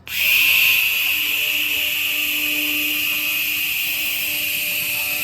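A handheld laser cleaning machine removing rust from metal gives a steady, loud high-pitched whine and hiss that starts abruptly and holds continuously throughout.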